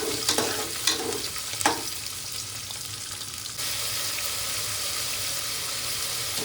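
Chicken pulao masala frying in a pressure cooker while being stirred, giving a steady close sizzle with a few sharp scraping stirs early on and no talking.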